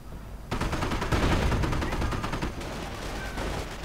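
Rapid bursts of grease gun submachine gun fire in a World War II strategy video game battle, loud and dense, rattling continuously for several seconds with overlapping shots and no voices.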